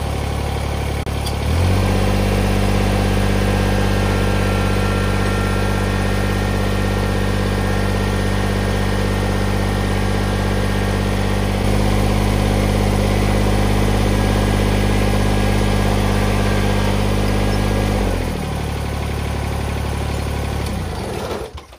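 A Kubota BX compact tractor engine starts up and runs at a steady, loud idle for roughly sixteen seconds while lifting a skid steer cab, its drone holding even before winding down at the end.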